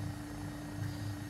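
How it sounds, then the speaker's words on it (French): An AW109SP helicopter in the X-Plane 12 flight simulator gives a steady, droning rotor and turbine hum with a low tonal whine, constant and moderately quiet throughout. "c'est un hélicoptère qui est vraiment, vraiment très très chouette"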